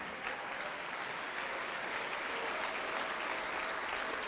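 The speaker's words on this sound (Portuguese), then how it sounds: "vamos aplaudir mais ao nome de Jesus" Sustained applause from a church congregation, dense continuous clapping filling the room at an even level with a hint of crowd voices beneath.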